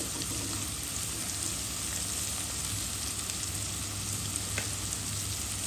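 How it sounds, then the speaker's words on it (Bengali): Onion and green chili fry in a pan with a continuous soft sizzle, fairly quiet and steady, with no talking over it. "দিব পেঁয়াজ দিয়ে দিব কাঁচামরিচ খালি একটু ভেজে নেব"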